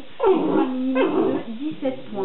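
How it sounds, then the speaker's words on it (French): An excited pet dog growls and yips in short bursts close by, mixed in with a woman's French speech that runs through most of the moment. "Je suis désolée pour mon chien qui fait la fête"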